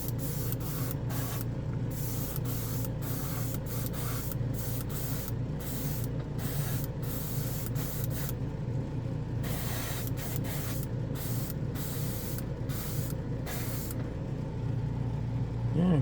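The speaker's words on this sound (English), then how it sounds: "this is one of those spray over anything chromes" Chrome spray paint sprayed from an aerosol can onto a plastic spoon, a loud continuous hiss in repeated bursts with short gaps, over a steady low background rumble.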